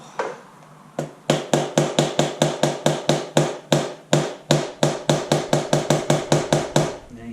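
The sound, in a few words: hammer tapping on motorcycle part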